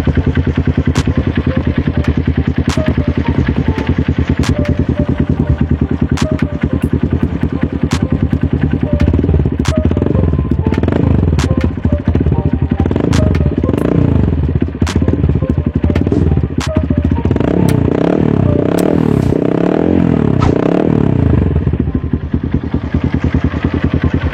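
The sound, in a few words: motorcycle exhaust idling in neutral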